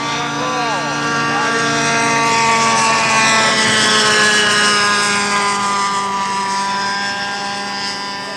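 A scale model airplane makes a pass, its engine whine rising and falling in pitch as it sweeps by, loud and sustained, with a voice talking over it.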